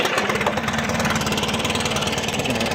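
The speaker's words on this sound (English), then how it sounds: "We're gonna get a little mowing action in here, guys." A lawn mower engine runs steadily and loudly at close range in a continuous rough, throbbing drone, with no voices heard.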